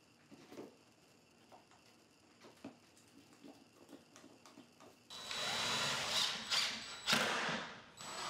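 A power drill drives pocket screws into a torsion-box tabletop. A few light knocks and clicks of handling come first, then a sustained, close motor whir rises and falls as each screw goes in.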